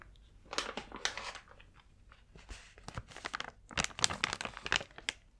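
Close, intense crinkling of material in irregular bursts, crisp and crunchy, with brief pauses between handfuls and no talking over it.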